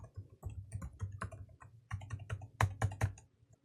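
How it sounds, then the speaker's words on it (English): A root password is typed on a computer keyboard in a close, quiet series of rapid clicky keystrokes, with a brief pause midway and a few firmer taps near the end, no talking. "For the root password, I'll go ahead and type that in."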